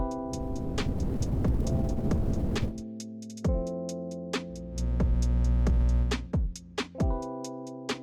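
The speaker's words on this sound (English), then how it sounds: "the mechanical noise and the electrical noise, and they sound like this." iZotope Vinyl plugin noise layers sound over a music loop: dense crackle and hiss at first, then a low mechanical rumble with sharp pops and clicks scattered irregularly, steady and fairly loud with no voices.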